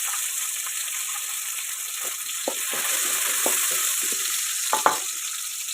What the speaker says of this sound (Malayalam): അപ്പോൾ കുറച്ച് കടുകിടാം.